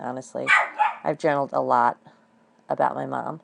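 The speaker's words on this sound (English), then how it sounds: "sorry about the dog barking" A dog barking indoors, heard under a woman's close, steady talk.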